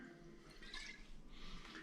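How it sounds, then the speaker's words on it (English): Quince liqueur poured in a small taste into a brandy snifter, giving a soft, quiet trickle and splash in two short bursts against a faint background. "I'm going to pour just a little bit for a taste test into a brandy sniffer."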